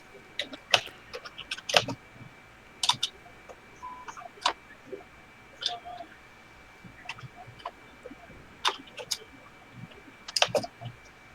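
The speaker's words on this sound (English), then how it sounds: "Oh, my keyboard is loud. Yeah, I hear it." A loud computer keyboard gives bursts of sharp typing clicks, scattered irregularly over quiet background hum with no talk.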